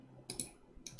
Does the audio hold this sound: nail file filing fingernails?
no